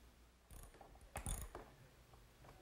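A ratchet wrench tightens carriage bolts on a workbench screw nut, giving a few short bursts of quick clicking, one louder burst in the middle, close and distinct in a quiet room.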